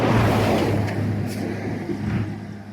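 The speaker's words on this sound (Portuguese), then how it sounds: "Passou um caminhão, não sei se não vou fazer um corte. Ficou muito alto o som." A truck rumbles across a bridge, a loud low engine drone and road roar that peaks early and slowly fades as it passes close by, with no talking.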